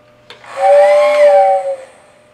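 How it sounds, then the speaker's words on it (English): Lionel ready-to-run toy train set sounding its whistle: a single steady, reedy electronic toot lasting about a second, loud and close, preceded by a faint click. "Whistle works."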